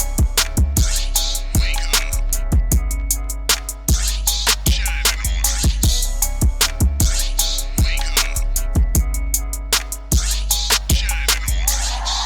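Hip-hop beat made on an MPC Live 2, with punchy kicks and snappy drum hits in a steady looping groove over sustained bass and melodic layers, loud and close throughout without talking.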